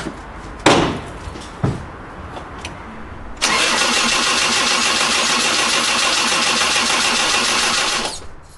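A worn Land Rover 200tdi diesel with a faulty stop solenoid, two brief clicks and then a long, steady, rhythmic starter cranking for about five seconds that never catches, loud and close with no voices.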